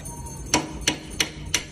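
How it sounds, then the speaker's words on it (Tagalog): Hammer tapping a flat screwdriver to loosen a metal lock cap, four sharp metallic strikes spaced evenly and close, with no talking. "Gagamit tayo ng flat screw tsaka martilyo."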